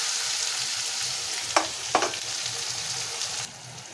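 Onions fry in hot oil with whole spices and cumin for a paneer curry, a steady close sizzle with a couple of sharp utensil clicks, then the sizzling drops quieter near the end.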